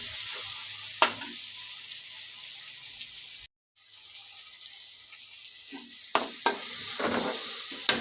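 Ridge gourd fries in a pan for a breakfast dish, giving a steady, close, bright sizzle. Occasional sharp clicks from stirring break the sizzle, and it cuts out briefly midway.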